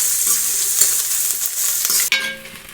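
Onions frying in a pan, loud continuous sizzle up close with a few spatula scrapes, the hiss briefly cut and then resuming more thinly near the end.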